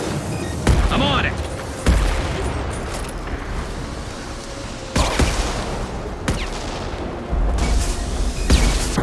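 Gunfire from a Mass Effect 2 battle, sharp shots and bursts cracking repeatedly over a loud, dense combat din, with voices briefly heard amid the firing.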